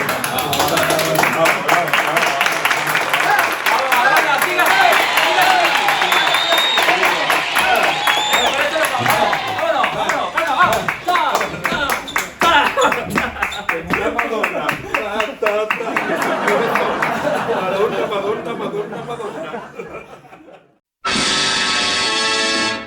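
Large arena crowd at a concert in Barcelona claps and cheers in a dense, loud, sustained wash that fades near the end, followed by a short burst of other sound.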